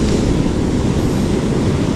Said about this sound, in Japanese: 波が結構高くなりつつ、しかも間隔もちょっと短くなってきてる